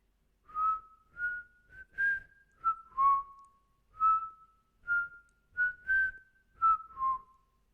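Eerie whistling rings out in a string of short, clear tonal notes, each sliding up or down, spaced in an uneven rhythm and heard alone in an otherwise silent room at moderate volume.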